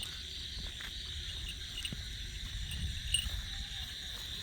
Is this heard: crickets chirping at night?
yes